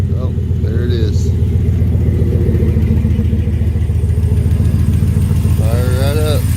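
A Chevrolet 2500 HD pickup with a 6.0 engine idles with a steady, deep rumble close by after starting, while someone talks briefly over it.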